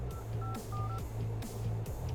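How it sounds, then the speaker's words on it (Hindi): A telephone dials a number in a Hindi-dubbed film scene, a quick series of short keypad tones beeping over a low background hum. "कमिश्नर साहब का फोन ही नहीं लग रहा है, बिजी बिजी आ रहा है"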